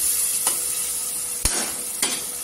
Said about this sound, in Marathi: आगरी मसाला 1 चमचा आणि काश्मीरी लाल 1 चमचा। 1 मिनिट तेलावर परतून घ्यायचं